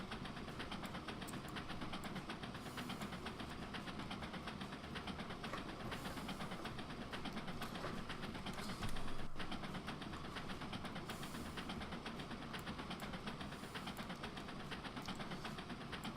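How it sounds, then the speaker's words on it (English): A workshop train running at around 31 mph, giving a steady, continuous engine and rail rumble with a constant rattling texture and a brief louder swell partway through, with no voices. "This is one of the workshop trains."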